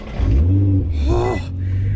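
A 750 hp 2017 Nissan GT-R running on E85 fires up and revs twice, its deep engine note swelling and dropping in two quick, loud, close bursts.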